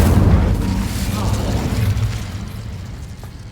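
An Incendio fire spell cast in Hogwarts Legacy, a loud, close, rumbling boom with a fiery roar that slowly fades over a few seconds.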